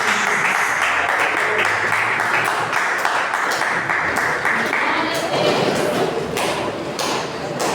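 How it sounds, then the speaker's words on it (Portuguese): A church congregation applauds to welcome the pastor, dense continuous clapping filling the room at a loud, steady level, with voices mixed faintly underneath. "Receba o pastor com as palmas."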